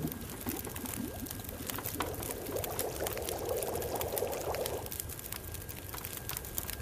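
Water poured to make coffee in the video game The Long Dark, a few seconds of gurgling pour rising over a steady ambient hiss, then cutting off and leaving only the background.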